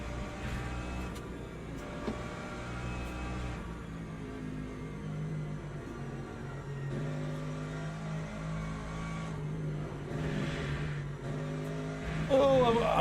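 Race car engines in Le Mans Ultimate drone steadily at moderate level, with another car approaching and pulling closer near the end; a voice talks over the engine noise.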